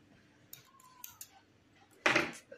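Scissors snip through crochet yarn, a crisp close cut after a few faint clicks from handling the blades, quiet and without talk.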